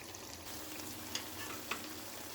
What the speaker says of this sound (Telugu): ఉల్లిపాయతో పాటు కొంచెం వేగిన తర్వాత అల్లం పేస్ట్ వేసానండి. అది కూడా వేగాలి